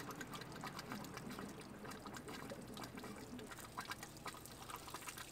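Water rushes steadily through a line filling an RV water heater, a continuous, even hiss and gurgle of flow with no pauses, fairly quiet and close.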